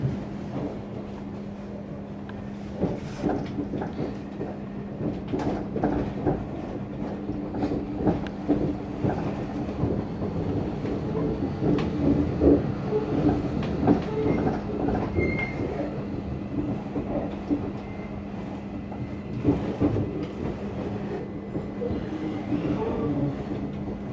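An SWR Class 707 electric train runs along the rails, heard from inside as a steady low rumble with rhythmic wheel clatter and a constant hum, swelling slightly mid-way before easing off.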